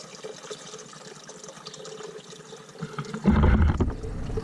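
Store-bought distilled water poured into a container for lemon balm tea: a soft trickle at first, then a louder, fuller splash of liquid filling the vessel toward the end, close to the microphone.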